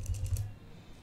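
Typing a command on a computer keyboard, several quick key clicks in the first half-second, close and clear, then quiet.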